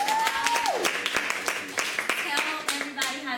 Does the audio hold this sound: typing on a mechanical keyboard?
no